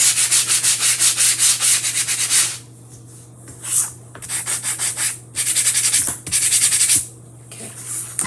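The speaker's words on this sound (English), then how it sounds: "I am lightly sanding." A chalk-painted Snoopy scarecrow piece is lightly sanded by hand, giving steady rhythmic gritty rubbing strokes up close, broken by short pauses between bursts.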